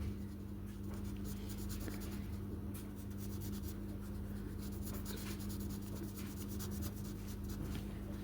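Pen scribbling steadily over a Besiktas squishy ball while it is colored in, a continuous close scratching and rubbing under a low steady hum, with no talking.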